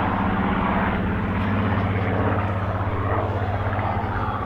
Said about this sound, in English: Squadron leader, Disco Discum, showing the aeroplane off beautifully.